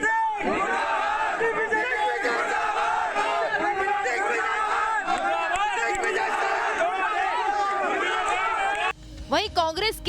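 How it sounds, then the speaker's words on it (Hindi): An angry crowd in Khargone loudly chants protest slogans against a visiting Congress delegation, a dense continuous roar of many voices shouting together, with a few individual shouts breaking through near the end. "लोगों के भारी गुस्से का सामना करना पड़ा। शिवराज चौहान मुर्दाबाद, मोदी मुर्दाबाद, दिग्विजय सिंह"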